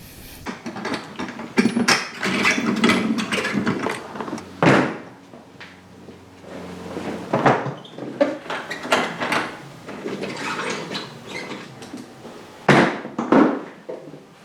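Saddlebags come off a Harley-Davidson Street Glide, heard as close latch clunks, knocks and sliding, rattling handling noises in irregular bursts with brief pauses between them.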